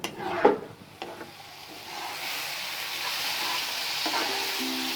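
Grated carrot mixture for carrot ladoo sizzles softly in a pan as it is stirred, with a few scraping strokes early on and a steady gentle hiss, no talking.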